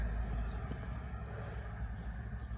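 Hooves of a horse carrying a boy rider clip-clop steadily on a rural road in Sugatag, Romania, a quick even rhythm at moderate distance under a constant low rumble of outdoor background noise.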